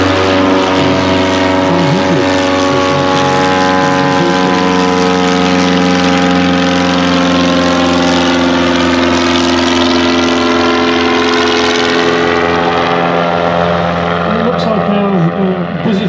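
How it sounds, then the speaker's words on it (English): The vintage Bristol Boxkite biplane's engine drones loudly and steadily as it flies past at an air display, a throbbing propeller hum whose pitch slowly shifts. Commentary over a loudspeaker runs on top throughout. "Turn by the Bristol Boxkite here, running in to catch up with the triplane"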